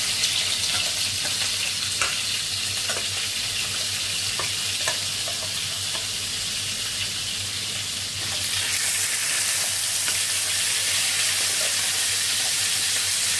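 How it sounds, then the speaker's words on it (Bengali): Pieces of fish sizzle in hot oil in a home kitchen, a dense, steady frying hiss with scattered pops and crackles that stays close throughout and is heard without talk. "তো মাছগুলো ভাজার জন্য তেল দিয়ে দিচ্ছি, এখন মাছ একটা একটা করে দিয়ে দিচ্ছি।"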